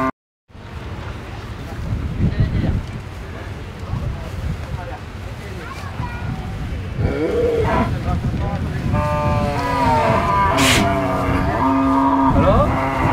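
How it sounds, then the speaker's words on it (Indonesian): Large cattle at a farm or livestock market low repeatedly under steady wind noise, the calls near and fairly loud, with people talking throughout and other animals and voices in the background. "Sapi ini gede-gede, lembu-lembu."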